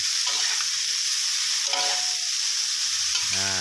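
Papaya stir-fries in a pan with a steady, loud sizzle and occasional spatula scrapes, close up, with a brief speaking voice near the end.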